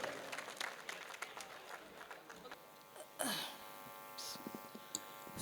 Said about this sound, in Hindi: ज़ोरदार तालियों से इस्तकबाल कीजिए मोहतरमा अंजुम